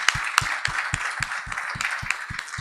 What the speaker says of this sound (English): Let's welcome with a big hand,